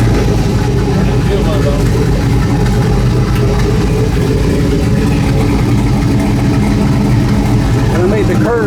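A turbocharged LS engine in a garage fires and runs, a loud, rough, continuous rumble close by with a rising rev near the end, voices talking over it.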